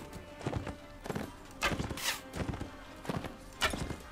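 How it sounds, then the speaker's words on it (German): Many horses gallop during a battle in the video game Mount & Blade, their hooves pounding in irregular clusters of thuds, moderately near and fairly quiet. "es sind auch ziemlich viele Pferde, so wie es aussieht"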